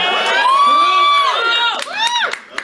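Comedy show audience cheering and whooping loudly, with one long sustained shout followed by shorter excited yells from several people.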